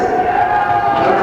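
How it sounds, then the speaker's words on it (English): Excited crowd cheering and roaring at a George Carlin performance, a dense, loud burst of massed voices held steady for a moment. "we have an excited crowd out here today."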